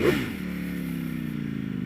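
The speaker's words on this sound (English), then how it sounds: "Oh, that is a stock exhaust, ladies and gentlemen." A 2018 Ducati V4S motorcycle with stock exhaust revs briefly, then settles into a steady, moderately loud exhaust drone with a faint rattling texture underneath.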